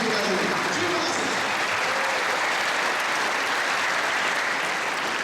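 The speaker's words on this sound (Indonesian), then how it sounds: "Berikan tepukan atas persembahan untuk kita." Loud, dense audience applause fills an Easter celebration gathering in Long Bemang, steady and continuous throughout without letting up.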